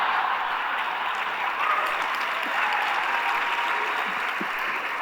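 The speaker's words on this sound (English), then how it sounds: "Yeah, you can applaud that." An indoor audience at a talk applauds steadily for several seconds, a dense, even wash of clapping heard from the room at moderate volume with no voices over it.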